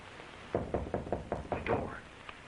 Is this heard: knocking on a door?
yes